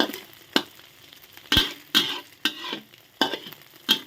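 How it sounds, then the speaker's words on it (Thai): Egg with cha-om acacia leaves fries in hot oil, a continuous close sizzle punctuated by several sharp spatula scrapes and taps against the pan at irregular intervals, no talking. "ทอดไข่ใส่ผักชะอม กับน้ำพริกกะปิ"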